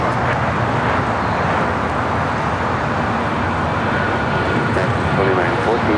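An American Heavy airliner roars on its takeoff from runway 25 right at LAX, a steady broad engine rumble heard from a distance, with talk over it.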